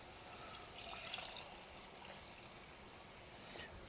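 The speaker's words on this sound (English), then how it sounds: "now we're going to add our broth to our red wine onions" Broth poured into a pan of red wine onions for poutine gravy, a faint steady trickle and splash of liquid running alone throughout.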